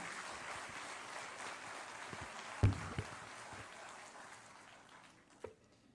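Faint, steady applause from an audience at a Teacher's Day ceremony honouring teachers in Lucknow, welcoming the Chief Minister; an even distant wash of clapping with a couple of brief thuds.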